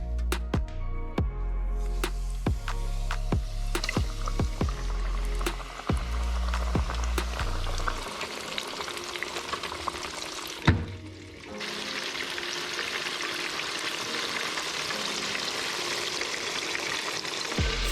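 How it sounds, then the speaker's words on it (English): Wild turkey tenders, two at a time, shallow frying in oil heated to 350 degrees in a small fryer: a steady, fairly quiet broadband sizzle that takes over partway through, with no talking. "Heat the oil to 350 degrees with a plan to maintain 325 degrees once the tenders are dropped in."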